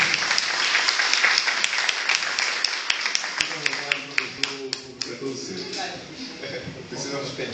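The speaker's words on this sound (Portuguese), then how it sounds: "Uma salva de palmas, por favor" A seminar audience claps to welcome a chemistry professor, a burst of many hands that thins into scattered individual claps, with people talking over it.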